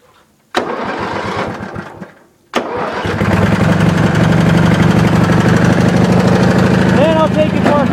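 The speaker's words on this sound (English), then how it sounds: "So it runs evenly on each cylinder." A Wheel Horse lawn tractor engine, just repaired for a dead cylinder, starts with a couple of short bursts, then runs steadily and loudly up close, firing evenly on both cylinders.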